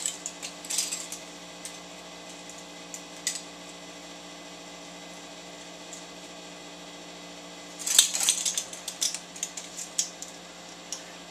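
Metal cutlery rattles and clinks in a home kitchen while someone hunts for a teaspoon, a brief jingle early on and then a busier clattering burst near the end over a steady mains hum.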